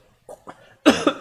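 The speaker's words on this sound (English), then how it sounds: "the more I speak, the more I cough" A man coughs a few times, with two small throat noises first and then a burst of harsh, loud coughs close to the microphone.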